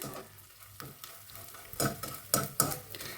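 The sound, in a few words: edible gum (gond) frying in ghee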